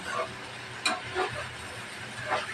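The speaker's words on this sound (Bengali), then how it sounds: "ঢাকনাটা উঠিয়ে ভাজিটা একটু আলতোভাবে নাড়াচাড়া করে নেব" Vegetable bhaji being gently stirred in a pan, soft scraping and rustling strokes in a few separate bursts over a quiet background hiss.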